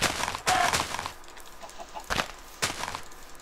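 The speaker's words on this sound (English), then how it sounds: "another chicken." A Minecraft chicken clucking, a few short separate clucks spaced out over a few seconds, clear and close against a quiet game background with no talk.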